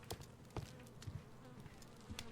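Bees buzz faintly in the Sherlock Holmes: Crimes & Punishments video game, a low insect drone broken by soft tapping clicks, quiet and without voices.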